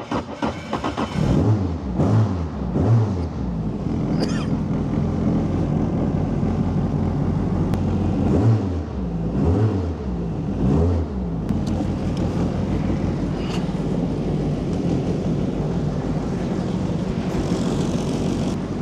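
A Formula Toyota FT30 race car engine cranks over a few times, catches, and then idles and revs loudly and steadily at close range, with no talk over it.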